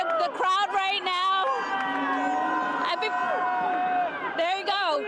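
A dense street crowd in Toronto celebrates the Raptors' NBA championship, with police nearby. Loud, continuous shouting and cheering fill the scene, and a voice speaks close by over the noise.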